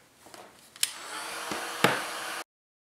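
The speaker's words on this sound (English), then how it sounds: "And then we'll close this up and hit it with a heat gun." A heat gun blows over a freshly glued art journal collage, giving a steady close airy whoosh with a few sharp clicks and knocks, then cutting off abruptly.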